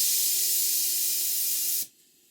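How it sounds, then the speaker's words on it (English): The safety valve on a model 504 steam boiler blows off steam in a loud, steady hiss with a faint whistling tone underneath. The hiss cuts off abruptly near the end and leaves quiet behind. "The 504 boiler is blowing off now, as if it's impatiently waiting for the opening of the steam valve."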